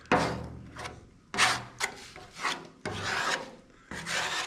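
Hand sanding body filler on the box of a 1937 Ford hot rod: several separate raspy strokes, each a short burst of scraping grit, close and fairly loud, separated by brief pauses.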